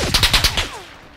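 Rapid burst of about five gunshots fired close by in a PUBG-style first-person shooter, sharp evenly spaced cracks with a short ringing tail as the burst ends.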